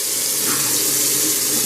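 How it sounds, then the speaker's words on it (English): Water pours steadily into a rice cooker pot, one cup measured for half a cup of white rice, a continuous close splashing gush that fills the whole moment without any talking. "So we're going to put 1 cup of water."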